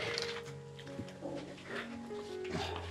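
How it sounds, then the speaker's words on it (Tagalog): Dogs bark and whimper nearby in short, overlapping yips and woofs, fairly quiet, with some background noise. "Malalaki po yung aso niya, ano?"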